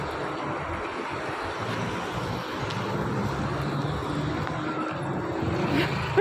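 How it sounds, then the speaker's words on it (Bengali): Highway traffic roars in a continuous broad rumble with wind noise while someone crosses the road on foot, vehicles close and fairly loud, a louder passing surge near the end, no talking. "এখন আমি আছি হাই রোডে"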